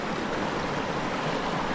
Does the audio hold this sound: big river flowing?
yes